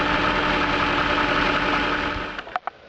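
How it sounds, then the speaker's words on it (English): A Jaguar XK8's engine idles steadily and loudly nearby, a constant mid-low hum that fades out as it is shut off, followed by a few sharp clicks and knocks. "That means I can turn the engine off now."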